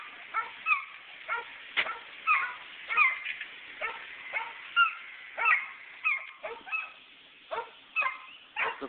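Dogs barking repeatedly at a moderate distance, a steady series of short yips and barks with whimpering between, sounding thin and band-limited as if heard from inside a car.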